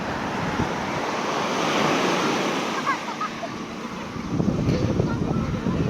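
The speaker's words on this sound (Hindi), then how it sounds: "तो जी ये देखिए जी लहरें, आय हाय हाय क्या लहरें हैं।" Ocean surf rolls and washes continuously, with steady wind noise buffeting the microphone.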